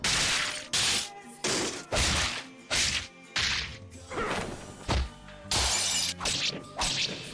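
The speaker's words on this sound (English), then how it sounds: "The sounds of fists connecting and weapons smashing are tight and crunchy, making every blow feel super satisfying." Punches and weapon strikes from the 2005 Yakuza video game land in a rapid series of sharp, crunchy whacks and swishes, about ten loud impacts in quick succession with no talking.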